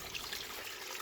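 Spring water trickles from a rock and runs down a stick held against it, making a faint, steady, soft splashing flow at a camp near Fuzhou, China.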